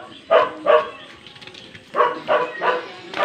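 A dog among several kept at a house at night barks in clear bursts, two quick barks, a pause, then four more, close and fairly loud with faint background noise and no talk.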